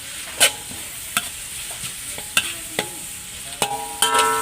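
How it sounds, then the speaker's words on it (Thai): Pork being stir-fried in a hot pan: a soft, steady sizzle runs throughout, punctuated by sharp scrapes and clinks of the spatula against the pan at irregular intervals. "ผัดให้เนื้อหมูสุกนะครับ"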